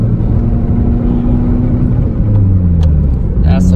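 A Toyota MR2 engine hums loud and steady from inside the car, its pitch dropping mid-way as the driver shifts into a higher gear, with someone talking over it.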